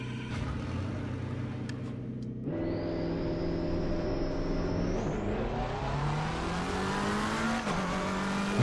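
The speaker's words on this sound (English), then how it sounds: "let's start the engine." A racing-game car engine fires up on a sim rig with a Fanatec CSL DD direct-drive wheel base, then settles into a steady loud drone that climbs in pitch as it revs, continuous and alone with no talk.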